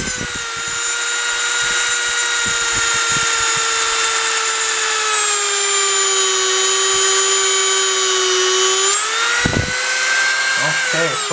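A small drill whines steadily into a 1:64 diecast metal car, a close, loud, high-pitched tone with bright harmonics that holds for about nine seconds, dips in pitch and then rises slightly near the end.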